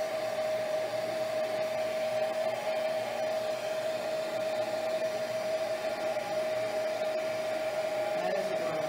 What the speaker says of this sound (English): What's nice about a heat gun or a blow dryer? Don't have a lot of patience, you can dry really quickly.